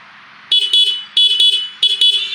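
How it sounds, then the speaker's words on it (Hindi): Horn of a Suzuki V-Strom 250 motorcycle sounds in three pairs of short, shrill beeps, loud and close, with a faint idle hum between the honks and no talking. "देखो इसका हॉर्न सुनाता हूँ आपको।"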